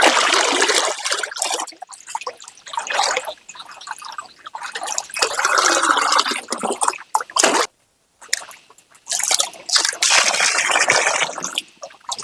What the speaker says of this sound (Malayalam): ഇത് നമ്മുടെ ചേമ്പിട്ടാ, ഇത് കഴുകി വൃത്തിയാക്കട്ടെ.